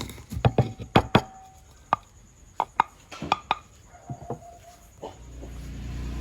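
A knife chops roasted food into smaller pieces for a Vietnamese mango salad with shrimp, giving a quick cluster of sharp knocks and then scattered single strikes on a board, close and clear, with no talking.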